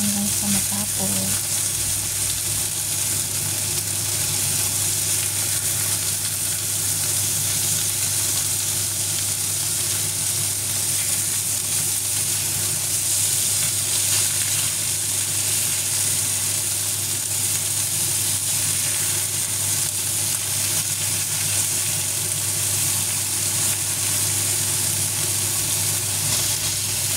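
Chicken midwings fry in a pan for sticky wings, giving a steady, dense sizzle that holds at an even level throughout with no pauses.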